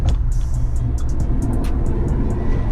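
A BMW E46 car engine held at high revs in low gear, a loud, steady mechanical drone running throughout with no talk.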